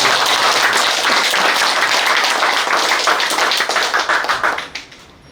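An audience claps to welcome a visiting party leadership candidate in Gimcheon, a loud, dense burst of applause held steady that thins out and dies away near the end.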